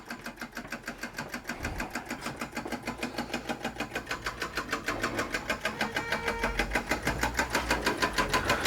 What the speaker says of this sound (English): it's just a lovely little engine, and to have all the original bits for it, just absolutely fantastic